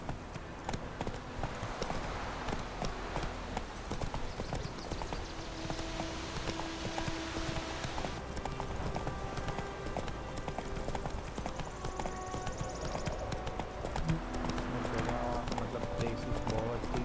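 Roach, a horse in the video game The Witcher 3, gallops in a steady, rapid clip-clop of hooves that runs throughout, moderately loud, with a voice speaking over parts of it.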